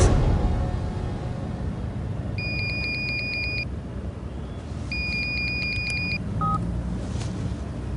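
A phone being dialed gives two quick runs of evenly spaced electronic beeps, then a short single tone, all over a steady background hum, with no speech.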